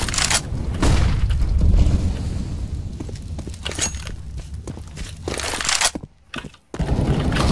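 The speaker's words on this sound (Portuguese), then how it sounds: "Flashbang." A flashbang grenade in CS:GO detonates in a heavy boom, followed by scattered cracks, crunches and footsteps during a match, then a brief drop-off and a return of dense game noise.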